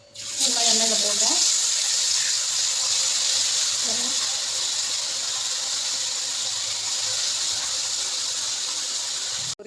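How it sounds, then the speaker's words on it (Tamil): Loud, steady sizzle of fish frying in bubbling oil for a home lunch, a continuous close hiss with a brief Tamil voice near the start. "பொரிக்கிறோமா, அதனால் எண்ணெய் பொங்கிட்டு இருக்கு."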